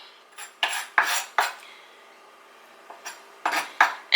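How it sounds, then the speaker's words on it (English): A knife slices through a giant oyster mushroom on a cutting board in close, crisp strokes that come in irregular bursts, with a short pause midway and no talk. "just wanted to quickly cut up the mushrooms so you see how I'm going to do it"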